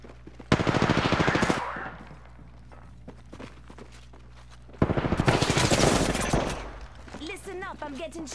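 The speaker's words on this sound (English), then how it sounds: "Listen up, I'm getting shot at." Rapid automatic gunfire in a video game comes in two loud sustained bursts separated by a quieter stretch, with a voice talking faintly near the end.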